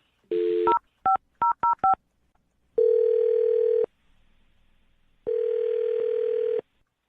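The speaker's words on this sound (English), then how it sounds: "I'm about to dial her phone number." A rapid run of touch-tone beeps as a phone number is keyed in, followed by two long ringback tones separated by a pause.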